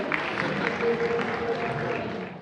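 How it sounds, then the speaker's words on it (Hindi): An audience at a poetry gathering, Udeesha 2026 in Moradabad, applauds to welcome poet Muntazir Firozabadi. Dense, steady clapping fills the whole stretch at moderate volume with no pause. "एक बार जोरदार तालियों से आप उनका इस्तकबाल करें"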